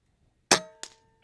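A Gamo Coyote Whisper .177 air rifle shot at an airgun expo: one crisp, faint crack followed about a third of a second later by a short metallic ring from the target, with quiet surroundings.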